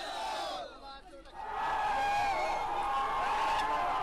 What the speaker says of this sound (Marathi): जामनेरमध्ये विजय मिळवल्यानंतर ही जल्लोषाची दृश्य.